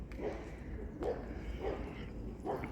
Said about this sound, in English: Another doggy.